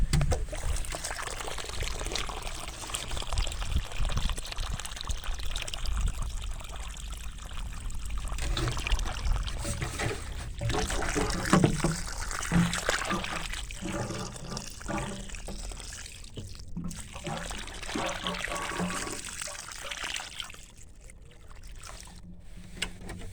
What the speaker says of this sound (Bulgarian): И поливаме обилно с вода.